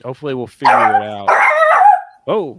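A pet dog barks and yips at home, a few sharp close calls at the start and end mixed in with someone talking.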